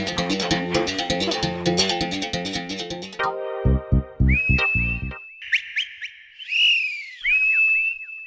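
A man whistles at a girl in an Indian comedy skit: several short, shrill rising whistles, loud and close, following a stretch of busy electronic music and thumping beats.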